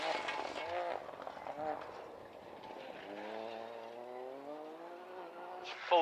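A Ford Fiesta R2 rally car at full throttle on a British Rally Championship stage, its engine note rising steadily as it passes, fairly distant, with a commentator talking over it.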